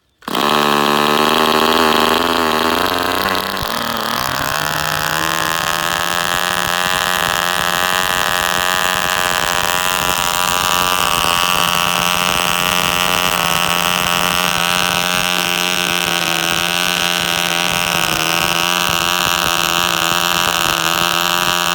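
A small RC model engine fitted with ignition starts up and then runs steadily, a loud, close, continuous buzzing drone that holds an even pitch, with no talk over it.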